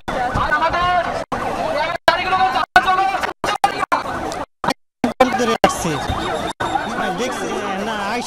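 An ambulance siren wails at a plane crash site in Uttara, its rising and falling tone running continuously under a crowd of people talking, with several brief dropouts.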